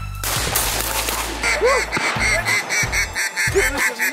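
Ducks quack loudly and repeatedly as they fly in during a Michigan opening-day duck hunt on a cattle farm, with a steady whooshing rush underneath.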